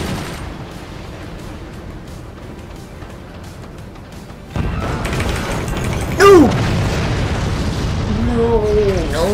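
Rocket explosions in the physics-based fort battle game Forts, rumbling blasts swell into a loud sustained barrage with a sharp pop midway, then a descending whistling tone near the end.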